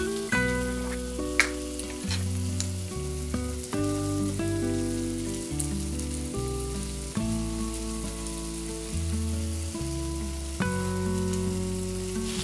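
Turmeric and spices fry in a pan with a steady close sizzle and occasional stirring scrapes, while a melodic background with shifting tones plays underneath throughout.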